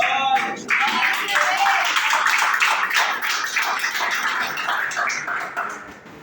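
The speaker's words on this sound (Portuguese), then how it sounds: "vamos abrir essa salva de palmas para Jesus" A church congregation applauds, a dense wash of many hands clapping together, loud and sustained before gradually easing off, with some voices mixed in.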